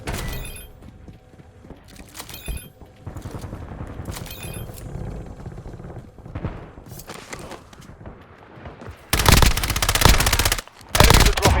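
Video game gunfire featuring the Kogot 7, with bursts of rapid automatic shots and scattered single cracks, growing to loud, dense sustained volleys near the end, heard close with no talking.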